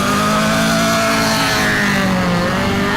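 Race cars roaring up the Giants Despair Hill Climb course in Laurel Run, Pennsylvania, with a loud, sustained engine drone and shifting revs close by, cutting off abruptly at the end.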